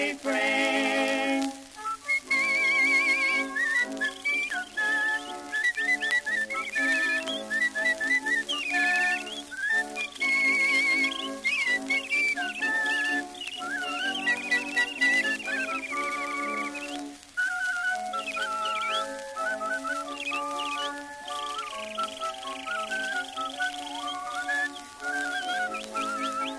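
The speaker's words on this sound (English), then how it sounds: "who was loudly whistling this refrain." A person whistles a lively melody continuously and close by, bright clear notes moving up and down in a steady rhythmic tune.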